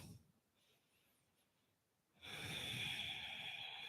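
A single deep breath during a Pilates posture exercise. It starts soft and quiet, then swells into a louder, airy, close exhalation.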